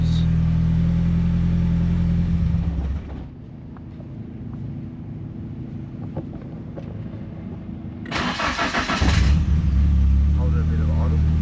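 A tuned 400kW Nissan S14 200SX engine running close by, revving loudly at the start, dropping to a quieter idle, then revving again near the end, while people talk over it.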